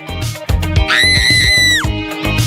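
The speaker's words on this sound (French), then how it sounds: "on attend avec plaisir les cris de terreur" A child screams in mock terror as part of a Halloween prank, a loud, shrill, sustained shriek rising over shorter overlapping cries and jostling noise.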